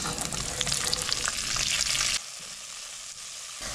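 Ginger, garlic and onion crackle and sizzle hard in hot oil left from frying mudfish, close and loud, then the hiss drops to a quieter simmer after a couple of seconds.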